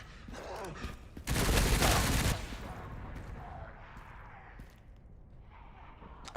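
Rapid gunfire bursts from the Resident Evil 9 video game sound loudly for about a second before cutting off abruptly, leaving only quiet game ambience behind.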